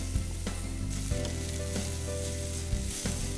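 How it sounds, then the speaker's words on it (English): Onions hit hot oil in a pan and sizzle steadily with a loud, continuous crackle, broken now and then by small knocks and stirring sounds, with no one talking. "Onions just go in. Just so you go. Nice little sizzle."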